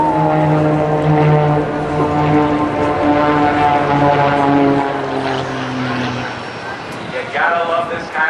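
Aerobatic propeller airplane at an airshow at NAS Oceana powering out of a tail slide, engine droning and rising in pitch, loud and close, with someone talking over it.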